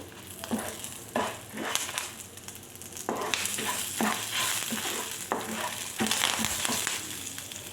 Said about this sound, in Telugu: ఎండుమిర్చిని బాగా మనం ఫ్రై చేసుకోవాలి కలర్ అనేది చేంజ్ అవ్వాలి అప్పుడే మనకి పొడి అనేది టేస్ట్ బాగుంటుంది అవి ఫ్రై అవుతున్నప్పుడే కరివేపాకు కూడా వేసుకోవాలి